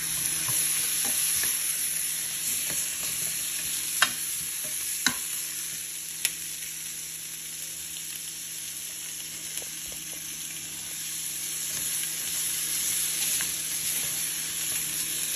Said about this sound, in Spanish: Mientras tanto vamos aquí cocinando todo vegetal a fuego medio